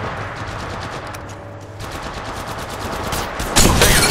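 Rapid automatic gunfire in the video game Apex Legends, played on a Samsung Galaxy S21, rattles on continuously and loudly, with a heavier burst of shots near the end.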